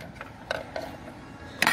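A spanner tightens the taper pulley bolt on the water pump of a VW MK7 GTI 1.8 engine, heard as a few faint, scattered metallic clicks that end in one louder, sharper tick.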